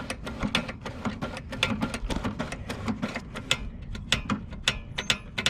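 Clicking and ratcheting from the throttle lever of a Murray 6HP lawn mower being worked back and forth, a rapid series of sharp, close mechanical ticks and clacks with no talk.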